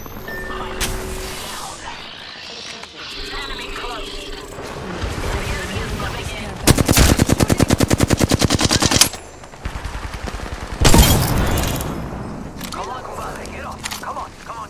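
Bursts of automatic gunfire from the video game Apex Legends, with a long rapid rattle of shots midway and another loud burst soon after, set among game sounds and radio-style voice callouts.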